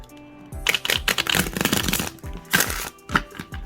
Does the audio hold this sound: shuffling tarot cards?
yes